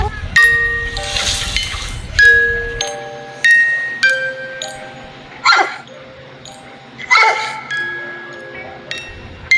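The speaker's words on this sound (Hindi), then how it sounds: "मिस्टर सुकरू बोस्ट रात के 12 बजे अचानक पड़ोसियों के कुत्ते के भौंकने की आवाज सुनकर उठ जाता है।" A dramatized documentary reconstruction of neighbours' dogs barking at night in Brentwood, heard as sharp intermittent barks and yips with whimpers over a tonal music bed, loud and close.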